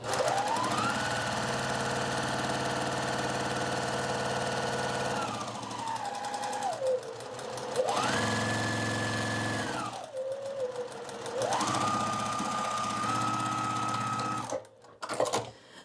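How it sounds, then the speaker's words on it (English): An electric sewing machine stitches the last seam of a scrappy log cabin quilt block, running in three long, steady whirring bursts with changing speed and short pauses between them, close and loud with no talk. "I'm about to sew the last seam on the last log cabin quilt box"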